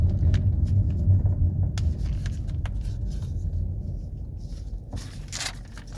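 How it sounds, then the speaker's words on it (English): A car passing by outside, a low rumbling swell of road noise that builds and fades over several seconds, with light scrapes and clicks close by. "Sorry, I had to let that car pass."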